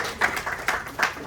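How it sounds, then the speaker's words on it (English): Audience applause at a Vyasa Puja celebration in an ISKCON temple in Plainfield, NJ: a steady wash of clapping from a crowd, swelling in a few louder bursts over a short stretch. "So we can have a round of applause and a Haribol for him too."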